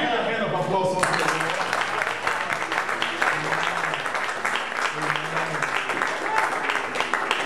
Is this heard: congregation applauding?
yes